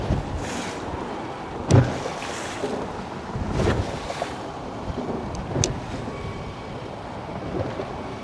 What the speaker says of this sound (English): Starting to get cold. Wind's picking up.